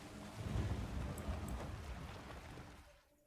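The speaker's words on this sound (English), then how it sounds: "Spawns rain." Rain effect from the card game Gwent: a swelling wash of falling rain with low rumbling, fairly soft, rising quickly then fading out after about three seconds.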